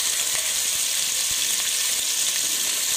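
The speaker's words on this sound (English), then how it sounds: "we're going to stir the lamb around and saute it a bit" Lamb sautéing in hot cooking oil in a pan over medium heat, a loud, steady sizzle running throughout with occasional stirring clicks.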